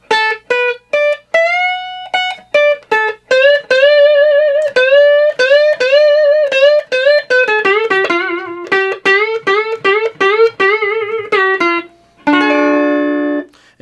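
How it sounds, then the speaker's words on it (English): Electric guitar playing slow blues, a clean fast run of picked notes and bends that ends on a held, ringing chord, loud and close with no voices. "And then Joe start play slow blues like this."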